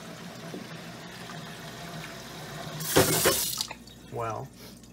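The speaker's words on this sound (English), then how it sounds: "the water coming out is going to be really hot" Water gushes from a hose carrying very hot liquid during a homebrew boil, a sudden loud rushing burst after quiet background, then a short gurgling splash.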